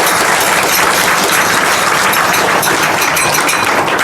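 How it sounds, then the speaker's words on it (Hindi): A church congregation claps hands together in loud, dense, continuous applause that stays steady and close throughout the few seconds, with no pauses. "ताली बजा के खुदावन को महिमा दें"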